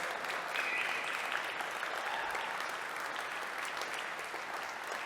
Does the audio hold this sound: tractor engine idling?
no